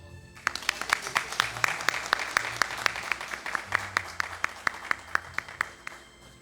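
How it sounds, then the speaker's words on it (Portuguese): Sustained applause during a municipal council session, many hands clapping steadily in a large room, with sharper individual claps standing out through the crowd. "Uma salva de palmas."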